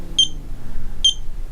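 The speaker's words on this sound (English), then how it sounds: "every single button you press, it beeps" Two short, high electronic button beeps from a video monitor about a second apart over a faint low hum, with no voices.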